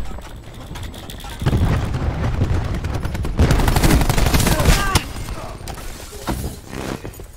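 Cluster grenade blasts in Call of Duty Black Ops 4 erupt in a loud, rapid chain of booming bursts that swell and then trail off, with gunfire crackling around them and game voices heard briefly.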